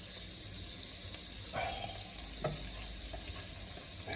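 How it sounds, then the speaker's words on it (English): Seasoned charro beans simmer and sauté in a pan with a steady low sizzle and bubbling, broken by a few soft stirring scrapes and clinks. "we're gonna continue to let this saute down for just a few minutes"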